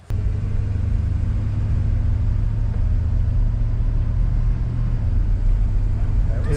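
A 1973 Monte Carlo rumbles along as it is driven, a steady loud low engine drone running continuously with no talk.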